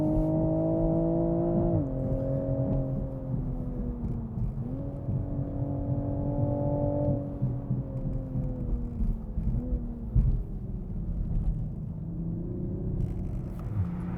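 A 2020 Toyota GR Supra driving a fast lap on a race track, its engine droning loud and continuously from inside the cabin, pitch rising through the gears and dropping at the shifts.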